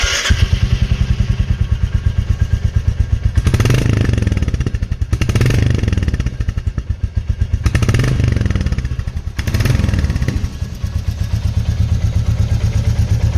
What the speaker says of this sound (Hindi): तो चलिए मैं इसका एक बार एग्जॉस्ट सुना देता हूँ।